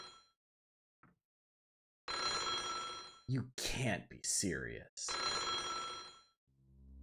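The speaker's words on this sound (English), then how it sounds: "The sound of ringing echoed through the spacious hall." A telephone bell rings loud and close in bursts in the Japanese video game America Daitouryou Senkyo, with a person talking between and over the rings.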